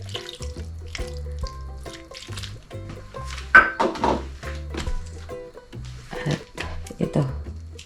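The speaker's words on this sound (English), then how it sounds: "Tsaka maglalagay ako ng 1/2 water." Water runs from a tap into a cooking pot for paksiw na isda with vinegar, a steady close splashing stream broken by clunks and knocks of the pot and utensils, with no talking.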